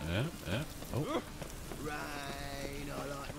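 Steady rain falls in The Witcher 3 while someone speaks over it in the first half, then the downpour continues as a constant hiss beneath other game sounds.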